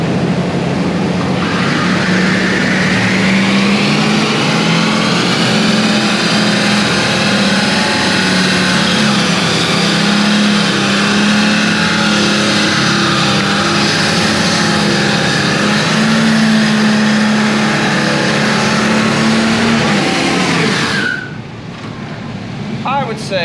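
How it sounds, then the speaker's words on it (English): In an enclosed shop, a V6 G-Body Monte Carlo roars through a sustained burnout for about twenty seconds, its engine holding high revs with a steady tire-spinning roar before cutting off abruptly and giving way to quieter noise. "For a V6, she really did a good burnout."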